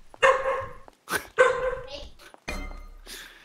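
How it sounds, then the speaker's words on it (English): Dogs barking indoors in several loud, close bursts with short gaps between them, mixed with voices. "Be wary that those dogs probably need to go out."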